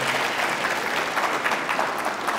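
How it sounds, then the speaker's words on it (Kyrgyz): An audience claps through a continuous, loud round of applause at a live stage talk, with dense, steady hand-clapping and no pauses. "Бир дагы кол чаап коелу өзүңүзгө."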